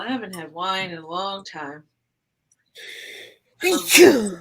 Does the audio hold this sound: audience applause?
no